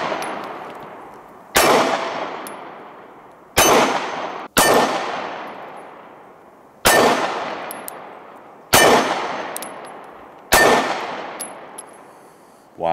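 Seven sharp shots from a Springfield Armory XDs 9mm pistol strike steel targets, each crack followed by a bright metallic clang that rings out and fades before the next, spaced irregularly at close range.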